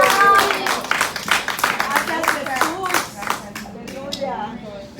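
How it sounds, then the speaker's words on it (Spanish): A church congregation claps in thanksgiving during a service, a dense round of applause mixed with voices and a preacher speaking, fading toward the end. "Él merece un aplauso de acción de gracias."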